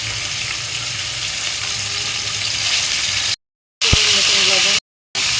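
Oil and black pepper sizzling in a frying pan while cooking beef pasta: a loud, steady broadband hiss that cuts out abruptly twice into silence, with a brief sharp clink partway through.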